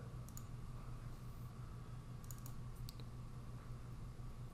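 A computer mouse clicks in geology drafting software, giving a few faint, sharp clicks, some in quick pairs, over a steady low room hum.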